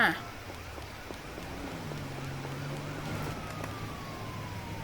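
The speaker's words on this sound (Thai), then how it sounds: "ได้ยินเสียงรถตำรวจค่ะ" A video game police car siren wails steadily in the background, a long rising and falling tone over continuous engine-like noise.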